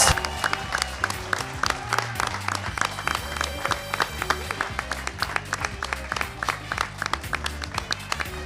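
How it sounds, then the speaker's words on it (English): Audience applause with some cheering follows the announcement of the People's Choice Award winner at a university chefs' competition, a loud, steady patter of many hands sustained over music-like background sound. "Give a round of applause to UTSC at 530 votes"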